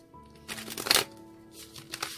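Tarot cards are shuffled up close in a quiet indoor space, one soft riffling burst followed by a quieter second burst of card shuffling, with no voices.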